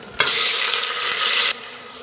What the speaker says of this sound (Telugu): ఉల్లిపాయ ముక్కలు పచ్చిమిర్చి ముక్కలు వేసి వేయించుకుందాం